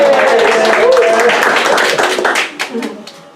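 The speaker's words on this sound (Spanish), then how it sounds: "un aplauso al nuevo bendecido que nos visita hoy" A church congregation breaks into warm applause, dense clapping that swells and then thins out toward the end, with voices mixed in underneath.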